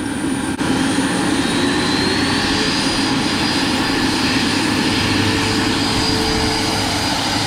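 An electric ducted fan on a radio-controlled MD 600N helicopter model, throttled down, gives a steady, loud, airy whirring roar with a faint high whine that holds even throughout.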